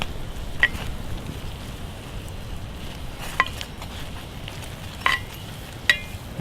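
Food frying in bacon grease in a pan at an overnight campsite, a soft steady sizzle with a few faint clicks and pops, quiet and close.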